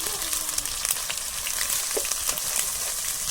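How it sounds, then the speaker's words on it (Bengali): Onion paste with cumin, garlic, ginger, a little turmeric and dried chili frying in a pan, giving a steady, loud, close sizzle with scattered crackles throughout and no talking. "এবারে মশলাটা কষিয়ে নিচ্ছি"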